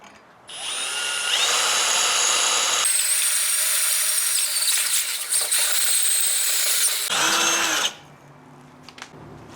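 A power tool deburring a metal bike rack being converted into a kayak carrier, loud high-pitched grinding in two long bursts with a brief pitch change between them, then stopping with lower rattling after.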